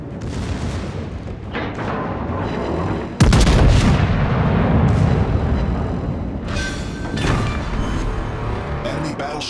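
Heavy naval artillery salvos from the battleship Ohio in World of Warships booming repeatedly, one especially massive blast midway, layered over continuous rumbling battle noise and occasional voice callouts.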